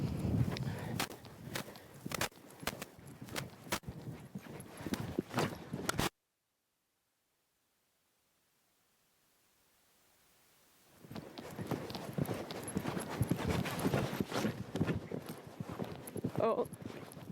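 Horse hooves beat in a steady canter rhythm over ground poles in a riding arena, close and clear, broken by a few seconds of silence before the hoofbeats resume; a rider talks at times.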